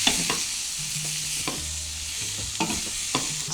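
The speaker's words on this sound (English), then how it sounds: "as the chicken is cooking, you want to stir it a little bit to make sure it cooks evenly" Chicken fries in a pan as it is stirred for a mushroom stir fry, a steady close sizzle broken by repeated scraping strokes of the spatula, with no talking.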